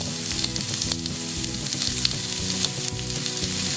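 Thin beef mini steak frying in a hot pan, a loud, close, continuous sizzle with crackling spits throughout, no voices.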